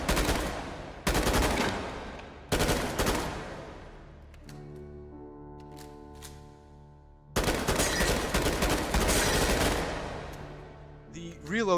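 Hip-fired gun in the VR shooter H3VR: several loud bursts of rapid automatic fire broken by short pauses, with a ringing mechanical hum in one gap and a final long burst.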